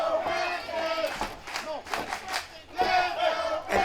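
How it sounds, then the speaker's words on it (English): Pro wrestling crowd at a Mid Atlantic Territory Wrestling TV match chanting "Let's go Preston" in loud repeated rhythmic waves, filling the arena and rising and falling with each chant. "You hear these people? They say, let's go Preston."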